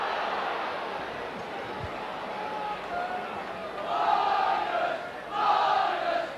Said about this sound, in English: the Leeds crowd starting to get behind Leeds now